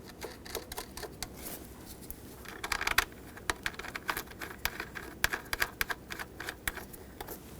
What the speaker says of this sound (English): Now let's put these mounting nuts on.